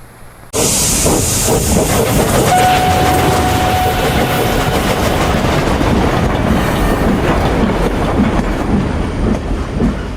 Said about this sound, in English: Look out, here comes my train load of La Terrain coffee.